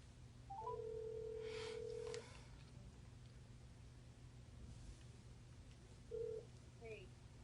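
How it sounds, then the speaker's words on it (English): A phone call to a friend rings out quietly: one long steady ringback tone, a pause, then a shorter tone. It sits faintly over a low room hiss. "I'm going to phone a friend and find out what the billing system is, if she answers."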